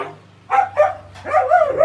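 A dog barks three times, close and loud, with short gaps between the yaps and no one talking.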